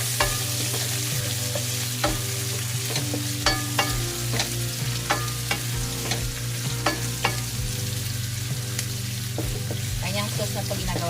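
Marinated pork steak stirred in a frying pan, a constant loud sizzle with regular sharp scrapes and taps of the spatula against the pan, close up and without speech.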